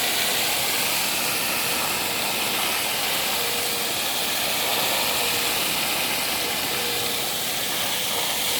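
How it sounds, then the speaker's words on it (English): A garden hose sprays steadily into a container to foam up egg soap suds, giving a loud, unbroken hiss of rushing water throughout. "I grab the hose, and I'm gonna foam this up."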